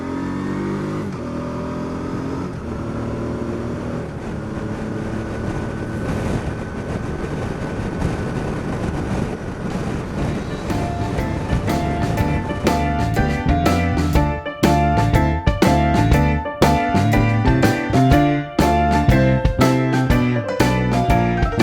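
Motorcycle with a rough, agricultural gearbox running continuously, its engine note rising and falling as it is shifted down without the clutch, with sharp interruptions and clunks growing louder and more frequent toward the end; no talking.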